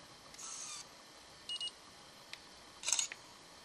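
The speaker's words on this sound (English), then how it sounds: "so let's go ahead and try their zero shutter." A T-Mobile myTouch 4G Slide phone camera fires its shutter, giving a few short electronic beeps and clicks at close range against a quiet room hiss.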